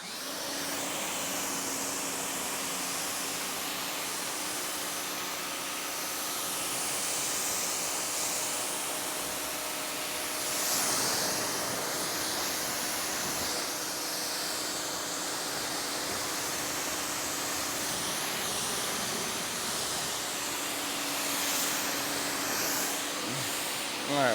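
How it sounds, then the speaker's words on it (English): Steady, loud broadband hiss of a power washer spraying rinse water over a car after a wash with pH-neutral ceramic soap, continuous for the whole stretch with slight surges and no talk. "I'm hoping it doesn't pick up the power washer and all these loud noises"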